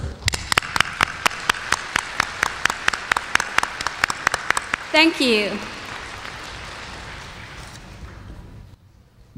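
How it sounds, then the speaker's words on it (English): An audience at a conference gives a warm round of applause, beginning as sparse, distinct claps that build into steady clapping, then fades as a voice speaks briefly over it. "please give him another warm round of applause"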